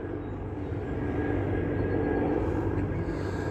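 Helicopters fly overhead with a steady, loud, low rumbling drone that swells slightly toward the end, heard alone without talking.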